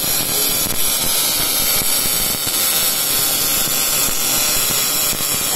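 A MIG-250S2 inverter DC IGBT welding machine runs in gas MIG mode, giving a loud, continuous crackling and hissing arc that stays steady throughout with no pauses.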